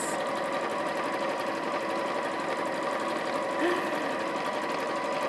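A domestic sewing machine runs steadily at a long stitch length around the edge of a fabric machine cover with a grey border, a close, continuous whirring hum with an even mechanical rhythm throughout.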